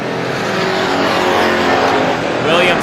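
Stock cars roar around a tight quarter-mile oval, a loud continuous engine drone with a car sweeping past near the end, under a race announcer's running commentary.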